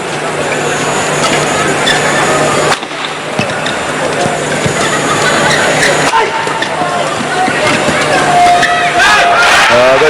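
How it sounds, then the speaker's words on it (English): A large arena crowd at a World Championship badminton men's doubles semifinal roars and cheers after a rally, loud and sustained, with a commentator's voice running over the noise. "The crowd enjoyed that."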